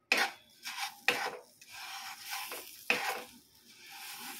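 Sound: stirring homemade mawa with roasted semolina in a kadhai

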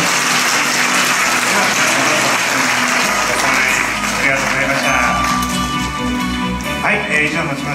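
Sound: audience applause

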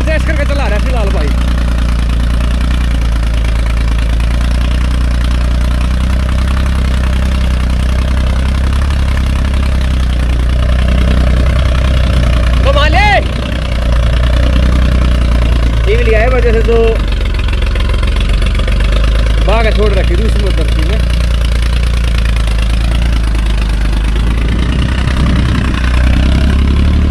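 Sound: vintage tractor diesel engine running

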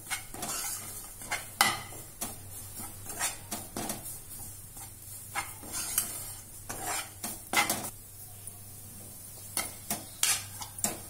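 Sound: roasting mixture in a pan for raghudaasu laddu

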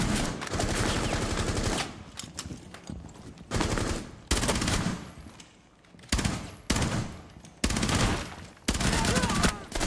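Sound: gunfire in Rainbow Six Siege video game

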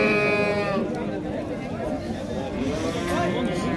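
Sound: sheep bleating at a livestock market

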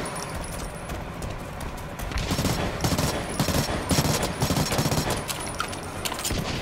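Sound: gunfire from a weapon in video game BlackLight Retribution

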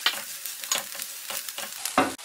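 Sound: onions and sambar powder frying and being stirred

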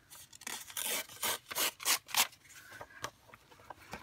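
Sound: tearing text pages out of a book

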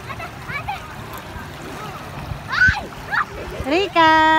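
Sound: people splashing and playing in a river

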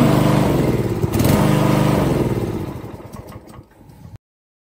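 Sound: radio controlled grass cutter VTW550-90 engine running

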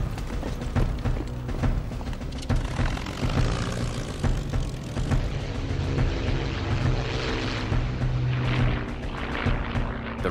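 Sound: Spitfire fighter aircraft engines

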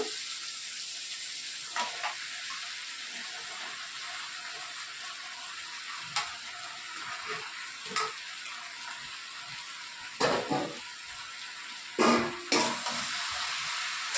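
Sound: bottle gourd added to pan with spices, frying and stirring

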